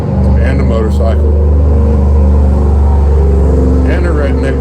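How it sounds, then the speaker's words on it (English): A motorcycle passing close by outdoors, a loud continuous engine drone with a steady low hum, no talk over it. "And a motorcycle."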